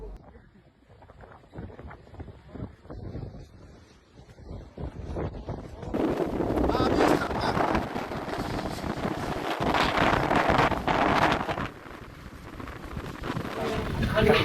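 Strong gusting wind at an outdoor festival site in Mamuju, buffeting the microphone with a loud, continuous roar that builds sharply partway through and stays heavy, with faint voices underneath.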